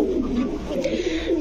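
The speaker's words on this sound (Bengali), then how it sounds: "দর্শক সয়াবিন কবুতর খুবই রেয়ার একটা ব্রিড" A rare soyabean breed pigeon at a fancy pigeon farm gives a soft, low, rolling coo close by, continuous through the short moment.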